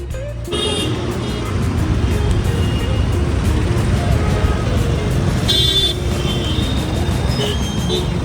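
Busy street traffic roars loud and close, a constant engine and road rumble with several car horns tooting in short bursts, and voices talking faintly over it.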